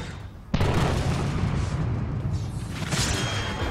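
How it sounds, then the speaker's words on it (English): A sudden loud boom erupts in the video game Atlas Reactor, followed by a sustained rumbling roar of explosion and debris, with a bright burst near the end. "Bigger explosions are better!"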